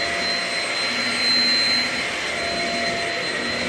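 A Shark Rocket self-cleaning vacuum cleaner runs nearby with a loud, steady whirring drone that holds even throughout, swelling slightly at one point, and no talking.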